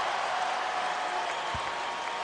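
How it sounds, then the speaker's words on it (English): An arena crowd at the 2006 Lakers vs Raptors basketball game applauds Kobe Bryant's career high. The clapping and cheering form a steady, dense wash, with one brief low thump partway through. "Crowd's on its feet for a career high for Kobe"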